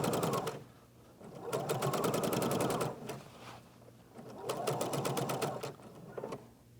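A sewing machine stitching a zipper down to its stopper, in two quick bursts of rapid rhythmic needle clatter separated by brief pauses, close and fairly soft.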